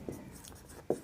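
Pen writing out a math solution by hand, with two short, faint scratching strokes separated by a quiet pause.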